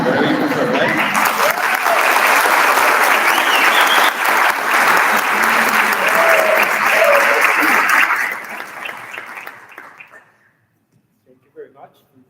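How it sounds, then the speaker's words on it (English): A crowd at a Disney Day event in Guatemala applauds loudly for about eight seconds, then the clapping tapers off into near silence with a few scattered claps and faint voices. "We can give him a really Guatemalan warm applause or welcome"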